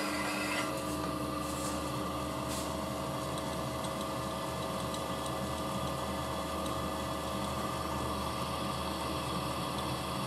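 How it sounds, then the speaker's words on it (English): An old speedometer cable spinning in a machine chuck makes a steady, even whirring drone with a constant hum, unbroken and fairly faint for the whole stretch. "I've put an old speedo cable into the chuck of the machine, then put this in an upright position"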